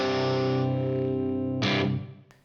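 Electric guitar with a single-coil P90 pickup played through a lower-gain distortion setting, an ESP LTD EC331 FR, one sustained chord ringing out, then a second strummed chord that decays quickly into silence.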